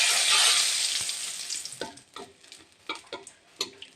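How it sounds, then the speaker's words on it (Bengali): Bay leaves drop into hot oil left over from frying taki fish: a loud burst of sizzling at first that gradually dies down, then a few sharp stirring clatters and scrapes in the pan. "এখন এর মধ্যে আমি তেজপাতা দিচ্ছি ওই মাছ ভাজার তেলটার মধ্যে।"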